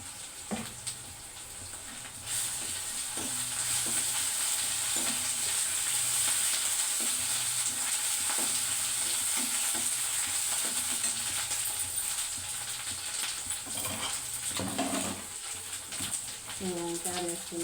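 Fenugreek powder and turmeric fry in a hot pan, giving a loud, steady sizzle and hiss from start to end, with occasional soft stirring knocks and faint background sounds.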